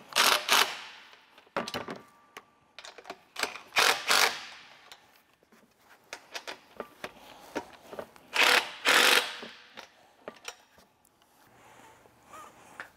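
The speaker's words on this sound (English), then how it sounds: "now I can go through and torque them down so that it's nice and secure" Bolts on an aftermarket smart jack are torqued down with a ratcheting tool, giving quick bursts of sharp clicking pawl sounds with short pauses between pulls, close and clear without any talking.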